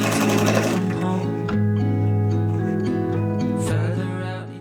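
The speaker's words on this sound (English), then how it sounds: "Just quickly putting in 1 or 2 gathering stitches into the top of the skirt." A sewing machine running gathering stitches across the top of a 1945 vintage dress skirt, a loud close mechanical whir that steadies, briefly slows near the end and trails off.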